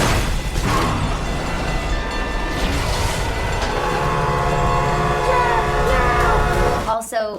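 A train roars past with a sustained rumble, a horn-like tone and rail clatter mixed with dramatic film music, loud and continuous before cutting off abruptly.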